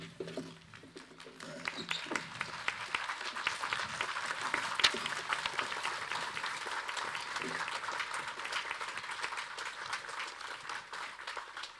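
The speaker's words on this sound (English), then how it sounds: "we give them a vote of thanks by clapping hands" Graduates stand and clap as a vote of thanks, a distant, moderately quiet round of applause swelling after a brief pause and holding steady, with faint birdlike cooing at the start.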